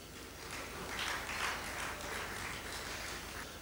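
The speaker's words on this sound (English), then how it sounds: "I think he deserves a round of applause." Audience at a University of Lagos 60th anniversary awards ceremony applauding; fairly quiet, steady clapping from a crowd, swelling slightly in the middle and continuing evenly.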